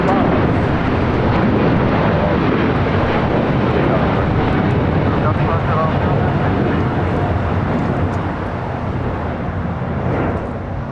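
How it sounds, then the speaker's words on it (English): A Boeing 787-9 Dreamliner takes off at a busy airport, a broad, loud jet roar with heavy wind buffeting on the microphone, sustained and slowly easing toward the end. "That is LL Flight 6 taking off to Tel Aviv on a 787-9 Dreamliner"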